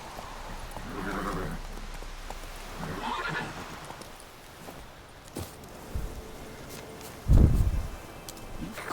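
Roach, the horse in The Witcher 3 video game, whinnies twice with breathy neighs, followed by scattered hoof clops and a heavy thud, moderately loud and close.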